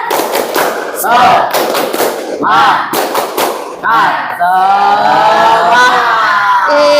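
A class of standing participants performs a rhythmic spirit clap, loud bursts of group clapping in patterned beats mixed with shouted chanting voices, ending in sustained vocal calls.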